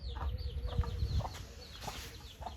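Desi hens cluck steadily alongside high, thin peeping from chicks, a close and continuous farmyard chatter with a few louder bursts.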